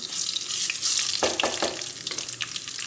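Cumin and whole coriander sautéing in a pan, a loud, dense sizzle with a few stirring scrapes in the middle, close and continuous, no talk.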